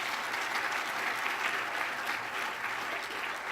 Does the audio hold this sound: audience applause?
yes